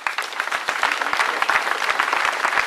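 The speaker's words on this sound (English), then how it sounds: "Let us clap for them." Warm applause from a church congregation at a Congregation of the Mission gathering in Kenya, many hands clapping steadily and fairly close throughout.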